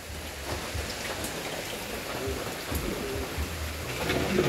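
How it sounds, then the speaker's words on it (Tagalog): Rain falls steadily as a dense, even hiss with soft patter. It stays at a constant moderate level and builds slightly toward the end, with no voices. "Nag-uula na"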